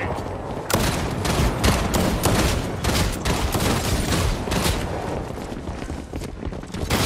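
Rapid video game gunfire crackles almost without pause, a dense fusillade of overlapping shots and bursts, loud and close throughout.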